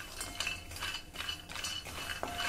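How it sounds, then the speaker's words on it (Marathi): Cashews and almonds being roasted over a low flame and stirred in a pan, giving faint, close clinks and scraping of a utensil against the pan in quick irregular strokes. "आता यामध्ये अर्धी वाटी काजू आणि बदाम घालणार आहे। हे देखील मंद गॅसवर आपल्याला थोडे भाजून घ्यायचे आहे।"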